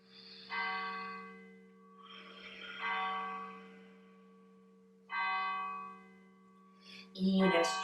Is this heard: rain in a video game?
no